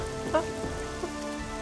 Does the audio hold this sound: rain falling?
yes